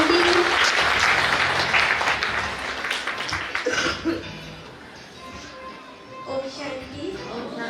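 Loud applause from an audience at a New Year celebration at a Brahma Kumaris retreat centre in Bihar, dense clapping that fades over several seconds, with a few coughs and a voice speaking faintly underneath.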